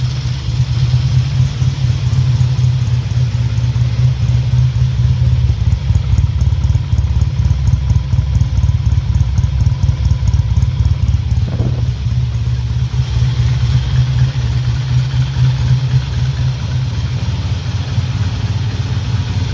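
A 1968 Triumph T100C motorcycle with a carburettor slide in need of maintenance idles steadily, its loud, close engine holding an even, rapid mechanical throb with light clatter throughout.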